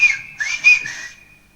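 A man on Gran Canaria whistles phrases of the island's whistled language to his wife, a loud, piercing two-fingered whistle with sliding pitch in a few connected bursts before fading.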